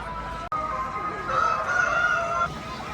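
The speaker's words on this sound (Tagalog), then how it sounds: "Ito ang manok sa Campistuan Resort" A chicken at Campistuan Resort gives drawn-out, strained crowing calls close by over steady outdoor background noise, with a brief dropout partway through.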